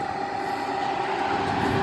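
A Freightliner Class 59 locomotive hauling a train passes at a road overbridge, a loud, close, continuous rumble and grinding roar with a steady tonal whine and wheel noise throughout.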